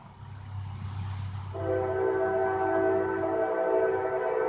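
A train rumbles low, then a loud sustained horn blares from about midway and holds to the end.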